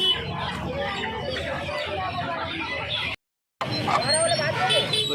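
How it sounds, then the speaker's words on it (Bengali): Desi chickens cluck and squawk close by at a busy hen market in Uluberia, under steady crowd babble and people talking, with a rooster-like call rising near the end. "এখানে যে মুরগিগুলো দেখতে পাচ্ছেন পিওর দেশি মুরগি রয়েছে"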